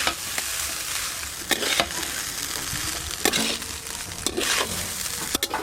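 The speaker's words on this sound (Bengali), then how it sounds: "এবার সব কিছু একসঙ্গে ভালো করে মিশিয়ে নেব।" Lemon rice with turmeric is stirred together in a hot pan, a soft continuous sizzle broken by sharp scraping strokes of the spoon against the pan at irregular intervals.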